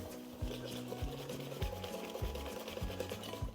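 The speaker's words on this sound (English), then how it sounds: "give everything a good whisk together until there's no more dry flour" Waffle batter is whisked in a bowl until no dry flour remains, a quiet, rhythmic scraping and swishing repeated at a steady pace, close and alone.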